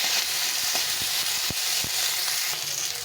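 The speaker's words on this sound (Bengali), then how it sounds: "আদা রসুনটা দিয়ে দিলাম। এটা দিয়ে আবার একটু ভালো করে কষে নিতে হবে।" Ginger garlic paste fries in a pan for egg biryani, a dense, constant sizzle broken by a few soft spoon taps, close and unaccompanied by talk.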